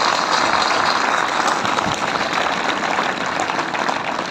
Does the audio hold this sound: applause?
yes